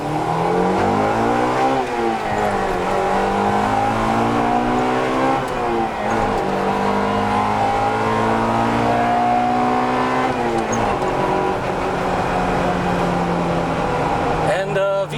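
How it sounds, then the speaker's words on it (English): A Honda Integra Type R engine revs hard and repeatedly at close range, the pitch climbing and falling through sustained high-rpm pulls as VTEC engages, loud and continuous at a JDM car show. "yes, VTEC does kick in really well"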